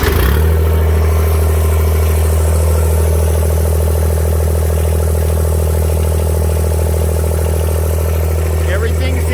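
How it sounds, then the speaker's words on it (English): A 2016 John Deere 1025R compact tractor engine held at high RPM, a loud, steady droning hum with a strong low rumble, running continuously and close up throughout. "I want you to see my tractor at RPMs."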